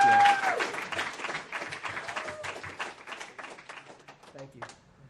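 A live studio audience in New York claps for a band, a modest burst of applause that fades gradually over a few seconds with scattered claps at the end.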